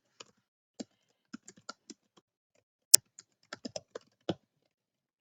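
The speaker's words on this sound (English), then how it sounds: "I'm just going to type in my Instagram." Keystrokes on a computer keyboard while entering details into a web form, a few spaced clicks then short bursts of taps at close range, with one sharper key press midway and no talking.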